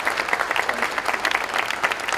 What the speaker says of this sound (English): So I just want to really give him a round of applause.